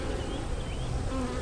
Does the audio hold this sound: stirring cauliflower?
no